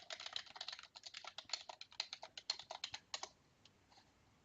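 Rapid keystrokes on a computer keyboard patter quickly and evenly at close range for about three seconds, then slow to a few scattered taps before stopping.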